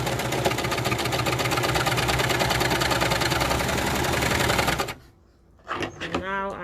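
A Baby Lock embroidery machine stitching the letter A runs with a steady, dense mechanical whir and rapid needle clatter that stops abruptly, followed by a brief quiet and then speech.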